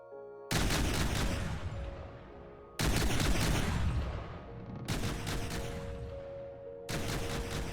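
A multi-barreled APS turret in the naval battle game From the Depths fires four heavy, booming volleys at a slow, steady pace, each ringing out and decaying before the next blast.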